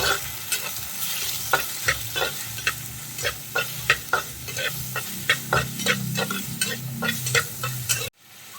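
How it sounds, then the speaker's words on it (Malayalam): Sliced onions and slit green chilies sauté for a Kerala fish curry, with a steady loud sizzle under rhythmic scraping strokes of a spoon against the pan, close up, before the sound cuts off abruptly. "ഇത് നന്നായിട്ട് നമുക്കൊന്ന് വഴറ്റിയെടുക്കാം"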